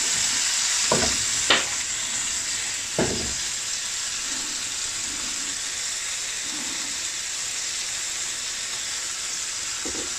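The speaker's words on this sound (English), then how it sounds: "I'm going to fry the egg now." An egg fries in about two teaspoons of hot cooking oil, giving a steady, close hiss and crackle of sizzling throughout, with a few sharp pops and spatters near the start and another near the end.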